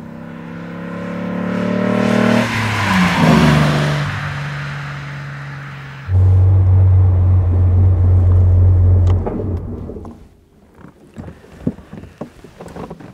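Loud engine drone of a 1960 Mercedes-Benz 300 SL Roadster (W198) driving past or accelerating, shifting pitch with gear changes, then fading into wind and road noise.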